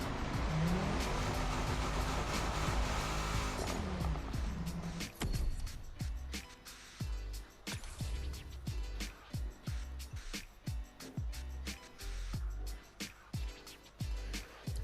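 A car running at top speed in The Crew Motorfest racing game, engine roaring steadily at high revs, then a run of sharp repeated mechanical clicks and thumps, with no voices heard.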